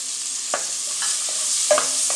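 Onion, garlic, scallion and thyme sautéing in melted butter, a soft even hiss broken by a few sharp spoon scrapes and clicks against the pot.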